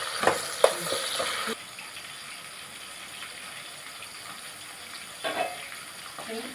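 Golden fried onions and tomatoes for Nellore fish curry cook in a pan, with soft frying sizzle and brief louder bursts of spattering near the start and again toward the end, quiet overall and without speech.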